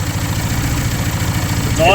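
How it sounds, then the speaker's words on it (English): A demolition derby car engine with very dirty spark plugs idles steadily with a low, even rumble, and a brief voice cuts in at the very end. "It's idling now."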